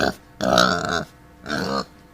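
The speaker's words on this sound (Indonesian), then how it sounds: "Pig," A pig gives three grunting oinks, loud and close, each a short voiced burst with clear gaps between them.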